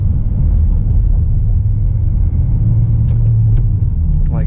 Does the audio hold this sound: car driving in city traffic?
yes